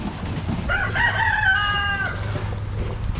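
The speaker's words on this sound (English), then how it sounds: "He's really a pretty good rooster." A rooster crows once in a single drawn-out cock-a-doodle-doo, clear and fairly close, over faint background noise with no talking.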